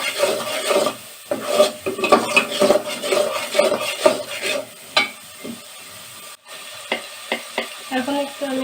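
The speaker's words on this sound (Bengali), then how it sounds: "এখন একসাথে মশলাগুলো আমি 1-2 মিনিটের জন্য একটু কষিয়ে নেব।" Spices being sautéed in a pan for potato curry (alur dom), with a spoon stirring and scraping through a steady sizzle in close, irregular strokes over about nine seconds.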